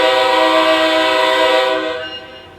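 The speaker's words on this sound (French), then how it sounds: "Avertisseur sonore." A TGV high-speed train horn in a train simulator game sounds one long, loud, steady two-tone blast that holds for about two seconds and then fades away, with no talking over it.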